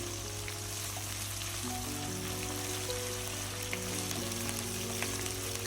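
Pirandai stems sautéing with curry leaves and roasted gram in a pan, a soft continuous sizzle at low volume with faint crackles, steady throughout over a low background hum.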